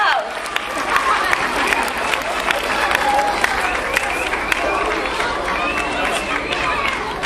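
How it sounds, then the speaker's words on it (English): A school assembly audience claps and cheers in a hall, a steady wash of applause mixed with crowd chatter and shuffling, moderately loud throughout. "Let's give him a round of applause."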